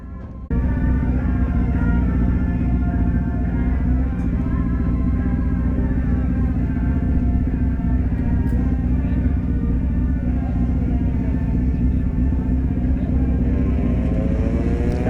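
Junior speedway cars race at Bega Speedway, their engines making a loud continuous drone and rumble that starts abruptly and holds steady, with shifting engine tones as the cars pass.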